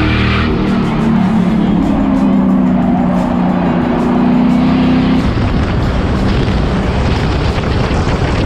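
Race cars at the Freedom 500 roar past on track, a loud, close engine drone with a steady rising pitch over the first five seconds, then a rough, booming wash of motor noise.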